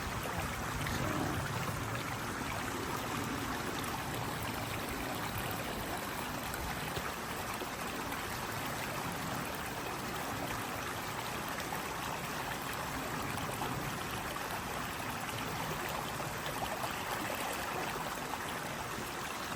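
Water from a hiking filter on a trail near Springer Mountain trickles and pours steadily for about twenty seconds, a soft continuous stream-like flow with faint background hiss and no talk.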